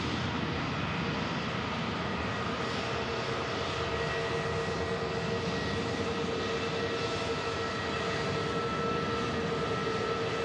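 An aircraft on its takeoff roll at Manchester Airport gives off a steady, moderately distant roar of jet engines with a faint whine, holding an even level without pause.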